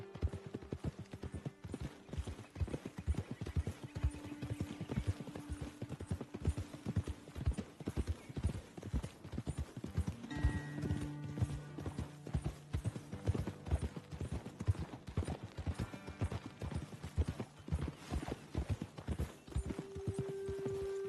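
Horse hooves clip-clop steadily on the ground in Red Dead Redemption 2, a dense run of close, rhythmic footfalls continuing throughout, with an occasional faint whinny and tonal game sounds mixed in.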